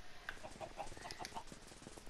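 Chickens clucking in the Minecraft video game, several short, quiet clucks in a loose irregular series, alone with no voices.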